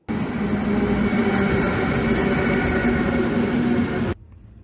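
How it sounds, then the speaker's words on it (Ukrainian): Steady rumble of a passenger train riding toward Saxon Switzerland in Germany, a loud continuous rolling drone with faint tonal hums that cuts off abruptly near the end, no talking. "Поїзд майже порожній."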